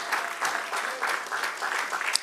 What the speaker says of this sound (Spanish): Dale el aplauso grande.